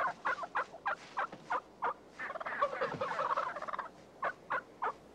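A wild turkey gobbles repeatedly, sharp rapid bursts in a rhythmic series with a longer rolling gobble in the middle, fairly close and clear.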